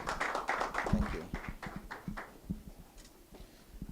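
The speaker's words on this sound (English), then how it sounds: "Another round of applause for Mohsin." Applause from a business conference audience, a dense patter of clapping hands that starts full and thins out into scattered claps, fading over a few seconds.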